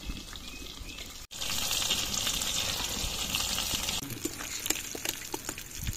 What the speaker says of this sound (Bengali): মাছের পিস কটা আগে দিয়ে দিলাম, এরপরে মাথাটা ভেজে নেবো।